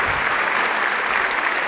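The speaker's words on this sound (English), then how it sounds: "A round of applause for our guests" An audience applauds guests at a leadership forum, a brief burst of dense, steady clapping from a full room.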